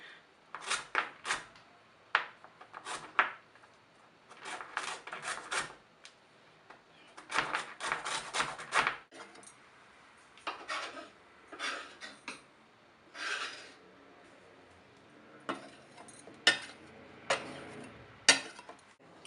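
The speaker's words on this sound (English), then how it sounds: "I'm just going to quickly zest the outside and then squeeze out the juice" Kitchen sounds of a lime being zested and squeezed for its juice: faint, irregular bursts of scraping and rubbing with short pauses between them, close by and without talk.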